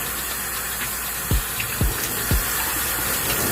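Tap water rinsing shampoo out of a curly headband wig in a sink, a loud, steady, close rush of flowing water with a few soft low thumps, and no talking.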